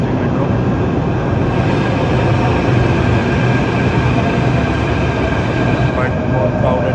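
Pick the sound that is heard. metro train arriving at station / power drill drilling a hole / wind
metro train arriving at station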